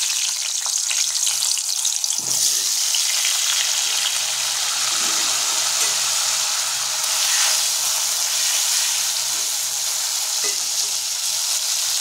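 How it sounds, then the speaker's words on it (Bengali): Pieces of pointed gourd coated in salt and turmeric frying in hot oil in a pan, a loud, steady close sizzle with occasional stirring knocks throughout. "এখন আমরা এই তেলে লবণ হলুদ দিয়ে মেখে রাখা পটল টুকরোগুলো ভাজা করে নেব।"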